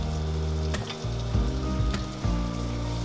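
Three cloves of minced garlic sizzle in a pan with softening onions for a creamy pumpkin and coconut soup, a loud, close frying hiss broken by a few scraping stirs and clinks.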